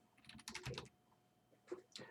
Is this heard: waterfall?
no